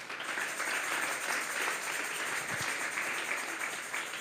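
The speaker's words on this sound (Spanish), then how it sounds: "Denle un fuerte aplauso pues al Señor." Congregation applauding inside a church during a youth worship service, a steady, diffuse wash of many hands clapping at a distance, fairly faint and even throughout with no voices on top.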